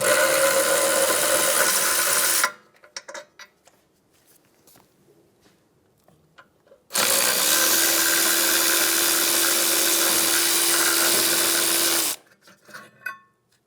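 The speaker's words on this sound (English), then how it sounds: "Using a 12mm socket, remove the caliper bracket bolts." A 12mm socket on a ratchet or power driver loosening the caliper bracket bolts on a 2011-2014 Hyundai Sonata, heard as two loud sustained bursts of tool noise separated by a quiet pause, close up and with no talk.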